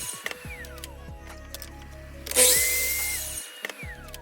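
A power saw cuts a timber board for a wooden puzzle, a short loud whining burst rising out of quieter workshop clatter before the blade spins down to a stop.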